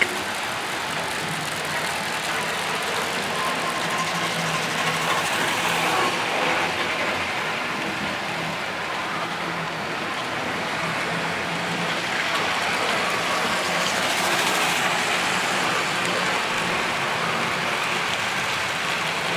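A Silver Streak model train locomotive runs continuously along its track, making a steady, rushing, hiss-like rumble that swells and fades gently as it circles, heard on its own with no speech.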